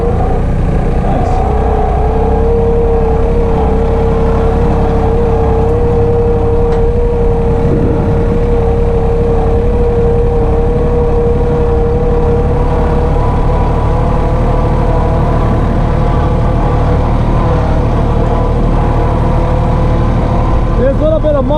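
New Holland Workmaster 25 tractor working through woods, its engine running steadily and close for the whole stretch, tone holding with slight shifts as the wheels spin in a patch of mud.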